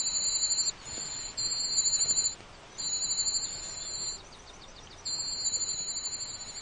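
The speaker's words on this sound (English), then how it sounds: "its call that mimics the sound of a whole brood of warbler chicks" A European cuckoo chick begs for food from warbler hosts, copying a whole brood of warbler chicks: high rapid trilling bursts in repeated close bouts with short gaps between them.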